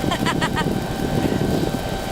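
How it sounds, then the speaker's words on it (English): A tow plane's propeller engine drones steadily over Oahu's North Shore during a powered hang gliding flight, a continuous low rumble under wind noise with a few brief voice-like bursts early on. "there's a tow plane out there"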